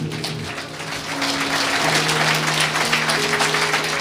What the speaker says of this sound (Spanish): Fuerte aplausos tata Dios man, aleluya